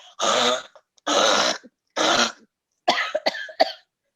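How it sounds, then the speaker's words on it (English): Three long, raspy hacking coughs followed by a quick string of shorter coughs, loud and close against silence. "Cough, cough, more coughs as you go outside for your smoke."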